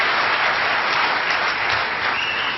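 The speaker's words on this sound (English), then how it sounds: "Applauding for that." Audience applauding at a university-themed talk, a dense, loud, continuous roar of many clapping hands that holds steady for a couple of seconds.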